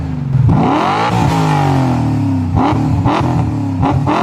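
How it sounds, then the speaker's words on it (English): A BMW M5 E39 engine revs hard several times, pitch sweeping up and down with sharp bursts of throttle, loud and close with no talking. "I'll include the sound of the M5 E39, which would be something like this"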